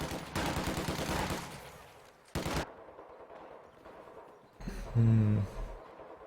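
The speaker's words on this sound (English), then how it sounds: "Infantry shooting at us." Infantry gunfire in the strategy game Company of Heroes 2, with loud bursts of rapid rifle and machine-gun fire separated by short pauses and a heavy final burst. Some game voice lines sound in between.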